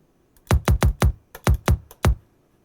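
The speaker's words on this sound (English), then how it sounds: "The second is the low end of the kick, which is running on a similar principle." Heavily processed kick drum reduced to its low end, a string of about eight dense thuds in a loose rhythm, each one punchy and quickly decaying, heard on its own.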